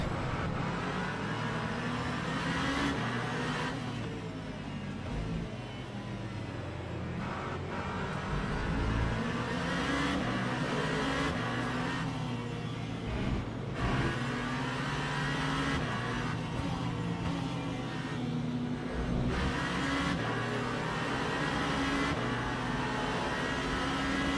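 Race car engines in the Le Mans Ultimate racing game sound as a continuous loud roar, with rising and falling revs and gear shifts as cars accelerate and pass during a league race, with no talk.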